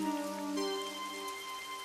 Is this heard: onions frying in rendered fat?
no